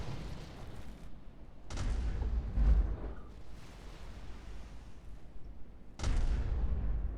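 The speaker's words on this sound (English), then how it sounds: "I love the new gun sounds." Naval guns on a warship firing in Roblox Naval 1945: a few deep, booming salvos that rumble and decay, spaced apart over a low background hum.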